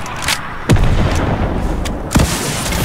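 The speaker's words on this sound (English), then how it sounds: "This is where the missile launcher is going to come in handy. I got my build, and let's just start pounding in the rockets." Rockets from a missile launcher blasting in Fortnite, two sharp booming explosions about a second and a half apart over a dense, noisy background of game sound.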